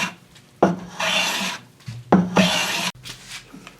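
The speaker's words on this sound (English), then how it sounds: "I'm going to take a molding plane, and I'm going to hog off the bulk of the wood" A wooden molding plane hogs off wood in two long rasping strokes, each a close, loud scraping hiss, with a short gap between them and no talking.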